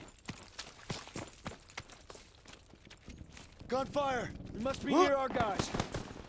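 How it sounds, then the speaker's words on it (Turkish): Sharp gunshots crack in an irregular series in Call of Duty: WWII while people talk excitedly over them, the voices growing louder toward the end. "Silah sesleri geliyor"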